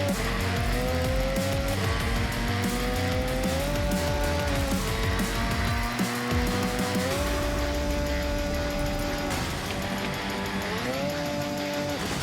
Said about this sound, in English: Here's the car sliding,